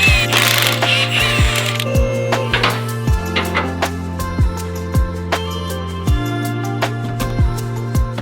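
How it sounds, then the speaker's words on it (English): A hand ratchet works on the lower strut bolts of a Ford Bronco during a lift install, clicking in a close, regular series of strokes, each stroke a buzzing run of pawl clicks followed by a sharp tick. "Let's get the lower strut bolts off."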